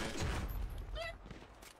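Gunfire from a team-deathmatch shootout in GTA roleplay, a loud dense burst of shots in the first half fading into scattered cracks, with voices talking underneath.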